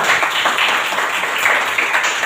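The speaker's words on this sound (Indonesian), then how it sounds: "tepuk tangan dulu kita" Students in a classroom clap together in a dense, steady burst of applause that lasts a couple of seconds.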